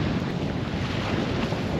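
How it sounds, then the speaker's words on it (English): Onshore breeze blowing on a beach, a steady loud roar of wind buffeting the microphone throughout with no breaks and no voices. "we're working against the wind. We've got an onshore breeze,"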